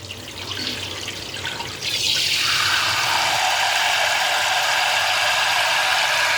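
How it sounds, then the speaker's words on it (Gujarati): Tap water runs steadily into a cooking pot in a home kitchen, starting with a lower rush and then turning into a loud, continuous hiss of filling water for the rest of the clip, with no talking. "હું એક આ તપેલીની અંદર પાણી ભરીશ."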